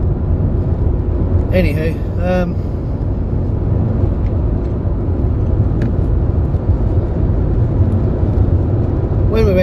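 A motorcycle rumbles steadily on the road as the rider skips two gears, engine drone continuous under someone talking over it, with brief whistling and tonal sweeps from the wind or traffic.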